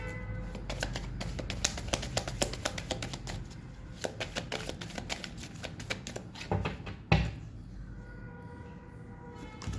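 Tarot cards handled and laid out on a surface in quick crisp clicks and snaps, in dense bursts with short pauses and one sharper slap near the end, fairly close and fairly quiet.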